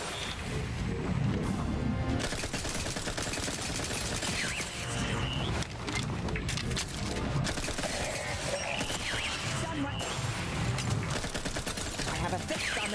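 Dense, continuous gunfire and crashing impacts from the video game Outer Worlds 2, a sustained barrage of shots and explosions with a game voice speaking over the battle.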